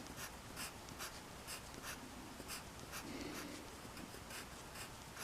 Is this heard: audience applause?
no